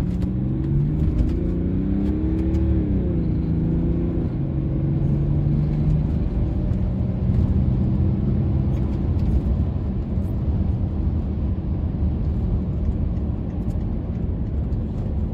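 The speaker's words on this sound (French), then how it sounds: "On se rend compte vraiment du potentiel à l'accélération" A BMW 635d diesel coupé accelerates from inside the cabin, its engine rising through gear changes in a smooth, subdued drone that settles into a steady road rumble with tyre and wind noise.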